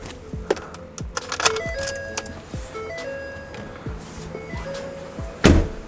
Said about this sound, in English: Turn the key on so that we can actually use the turn signal.